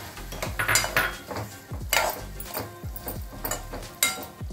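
Red pumpkin going into a pan of cluster beans and being stirred, a metal spoon scraping and clanking against the pan in uneven strokes, with a soft sizzle underneath.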